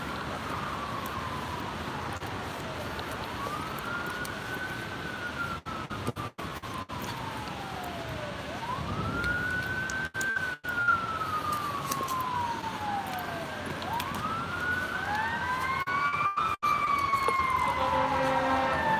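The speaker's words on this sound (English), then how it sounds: "Sounds like fire truck sirens." Fire truck sirens wail, rising and falling in long sweeping cycles, fairly distant but growing louder, over steady traffic noise in Los Angeles.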